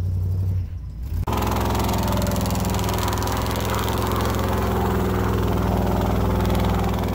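A pickup truck's stock TBI 454 V8 rumbles loudly through headers and dual exhaust after a brief dip at the start, then runs steadily with a throaty, continuous drone, close by.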